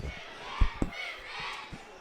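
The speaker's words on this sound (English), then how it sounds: "There's our Royal good crowd. Fans in the stands." A crowd of fans fills the stands at a varsity high school football game, a diffuse murmur of cheering and chatter heard from a distance, punctuated by a couple of brief thumps.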